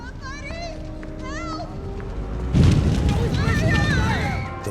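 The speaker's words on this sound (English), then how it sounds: "The fire on this one was almost 3 times as big as the first one." A large fire explosion effect goes off on the set of a Spider-Man film, a sudden loud whooshing burst midway that masks scattered voices and continues as a roaring rumble.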